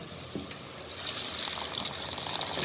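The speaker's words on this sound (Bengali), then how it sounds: "এখন পানি দিয়ে দিব," Water poured into a pot of spiced beef stew cooking with chili and coriander powder, a steady close trickle and hiss that swells slightly halfway through and keeps running to the end.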